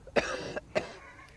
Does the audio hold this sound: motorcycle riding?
no